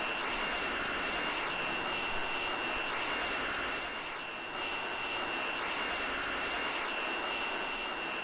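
A fixed-wing airplane engine in a train simulator game drones steadily at a low, even volume, a constant broadband hum with a faint high tone and no talk.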